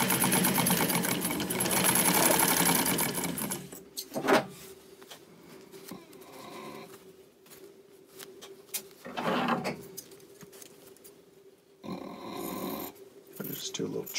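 A sewing machine stitching a Christmas dress runs in a loud, fast whirring burst at the start, then stops and restarts in short mechanical spurts amid quiet pauses.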